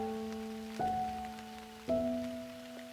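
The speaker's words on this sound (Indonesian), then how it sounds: "Udah mulai turun hujan juga nih." Light rain begins falling during a solo hike on Mount Sagara in Garut, West Java, a soft, faint patter under a steady background hum, with two brief louder rustling bursts.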